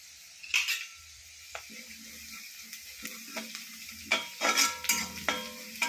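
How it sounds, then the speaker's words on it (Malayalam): Onion, ginger and green chilli frying in a pan for upma, a soft sizzle under intermittent stirring scrapes and clinks of a utensil, close by, with louder bursts of stirring near the end. "ഉള്ളി നല്ലപോലെ മൂക്കണം. ഉള്ളി, ഇഞ്ചിയും പച്ചമുളകും എല്ലാം."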